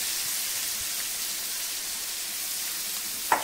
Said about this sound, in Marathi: आता याच्यामध्ये आपण बारीक चिरलेला कांदा टाकायचा